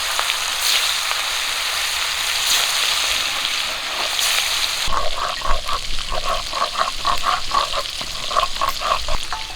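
Fish pieces dropped into hot oil in a pan start frying halfway through, a steady broadband sizzle giving way to louder bubbling crackle with rhythmic spattering bursts, close and alone without speech.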